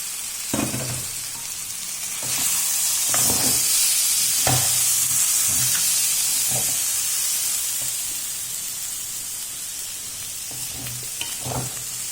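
Green beans tossed into a hot pan for mezhukkupuratti give a loud hissing sizzle, with occasional spoon knocks and scrapes as they are stirred.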